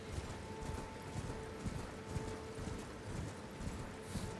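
Horse hooves clip-clop steadily during a ride in Elden Ring, a continuous rhythmic patter of fairly loud footfalls with a faint tonal hum underneath and no talk.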